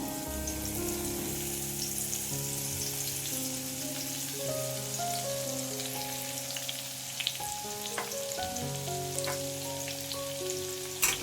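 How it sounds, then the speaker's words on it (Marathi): Crushed garlic fries in hot oil with a continuous, bubbling sizzle, a few sharp pops and crackles, and steady tonal music in the background. "आता तेल तापलं की चांगला ठेचलेला लसूण त्या गरम तेलामध्ये घालून घ्यायचा"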